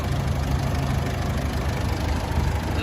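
A 2011 Mitsubishi Triton Plus Cab with a 2.5-litre diesel engine idles steadily nearby, a smooth, even low rumble with a faint mechanical clatter and no pauses, alone without voices.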